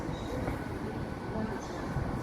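A train rumbles past at Hereford station, a low, continuous rolling roar with faint wheel clatter, moderately loud and steady throughout the short stretch.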